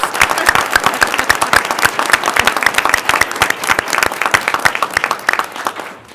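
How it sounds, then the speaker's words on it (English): A room full of people at a Board of Trustees meeting applauds loudly and steadily, dense clapping that carries on for several seconds before starting to fade at the end. "let's have a round of applause"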